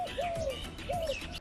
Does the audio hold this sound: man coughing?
no